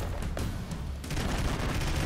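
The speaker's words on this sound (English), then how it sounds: "Eat bombs! Eat bombs! More bombs!" Bombs explode in the Broforce video game, a loud continuous barrage of booms and blasts rolling together over two seconds.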